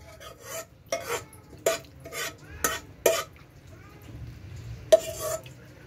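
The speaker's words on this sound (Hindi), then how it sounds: "ये मैंने देसी घी डाला है और इसके अंदर मैंने 3 सब्ज़ इलायचियाँ डाल दी हैं" Desi ghee heating in a pan with three green cardamom pods, a spoon clinking and scraping against the metal in sharp, irregular strokes over a faint low sizzle, close up.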